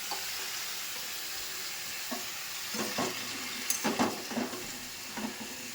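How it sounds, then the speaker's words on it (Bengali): Mixed vegetables frying in a pan, a soft continuous sizzle with a few louder stirring scrapes and spatters midway, close and without talk. "সবজিগুলো এখন ভাজতে থাকি"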